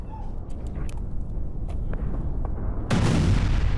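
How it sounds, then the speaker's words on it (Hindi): A sudden loud boom bursts in near the end, following several sharp cracks over a rumbling, noisy background. "अफ्रीकी देश में जो धमाका हुआ है"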